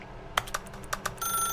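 Telephone in The Stanley Parable video game: a few sharp clicks and taps first, then a steady electronic ringing tone that begins near the end and continues to the cut, clear and without talking.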